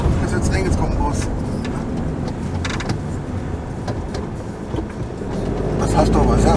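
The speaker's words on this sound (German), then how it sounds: "Oh, ist jetzt eng, jetzt kommt ein Bus." A bus draws near on a narrow road in the Abruzzo region of Italy, heard from inside a passing camper van as rising engine and road rumble, with people talking over it.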